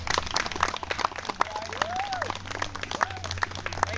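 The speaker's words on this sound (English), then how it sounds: "Another round of applause for our band." Outdoor audience applauding the New Horizons Band at a Sharpsburg, Maryland Founders Day concert, scattered clapping with sharp individual claps, moderately near, a faint rising and falling whistle-like tone passing through and a low hum underneath.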